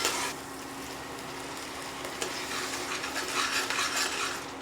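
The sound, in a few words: onions sautéing in a pan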